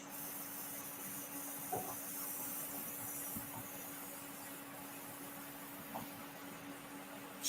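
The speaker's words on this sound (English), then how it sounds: "So I'm gonna clean my airbrush out real quick." An airbrush blows out while being cleaned after painting, giving a faint, steady hiss that runs continuously, with a few light knocks.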